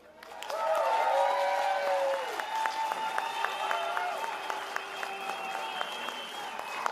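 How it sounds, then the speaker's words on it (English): Outdoor crowd applause and cheering at a British farmers' protest against inheritance tax in central London, swelling quickly then holding as scattered claps continue, with faint voices and tonal sounds mixed in. "another big round of applause for Jess Sharp there."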